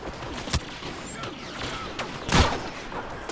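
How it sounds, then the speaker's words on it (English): Blaster gunfire in the Star Wars Battlefront video game: scattered sharp shots and one heavier burst near the end, set against a busy, noisy battle background. "He was already dead before I started shooting."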